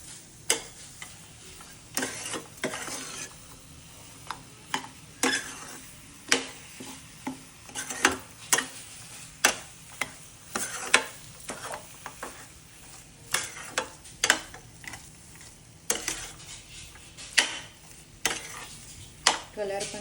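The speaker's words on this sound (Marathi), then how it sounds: "चांगल्या पद्धतीने मिक्स होईपर्यंत आपल्याला हलवायचं आहे." Semolina halwa tinted yellow with saffron is stirred in a pan, a steady run of spoon scrapes and metallic clinks repeating every second or so, close and moderately quiet, with no talking.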